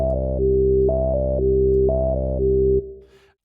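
Synth tone whose filter is stepped by a user-defined LFO, cycling through three short brightness steps in a repeating pattern, three times over about three seconds, then cut off with a brief tail.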